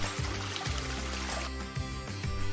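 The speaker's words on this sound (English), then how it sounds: "Rinse with cold water." Cold running water flows continuously from close by for rinsing, a steady pouring stream with small splashing shifts and no talking.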